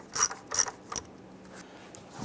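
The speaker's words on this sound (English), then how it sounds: "Using our 8mm socket, we're going to go ahead and loosen the hose clamp here" Ratchet on an 8mm socket loosening a hose clamp in the engine bay of a 2002-2008 Dodge RAM, three quick close clicking bursts followed by quiet.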